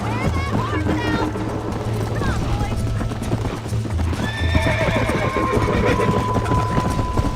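Galloping horses in a Red Dead Redemption race, rapid continuous hoofbeats with a clear whinny rising over them, while a voice talks over the pounding hooves and game music.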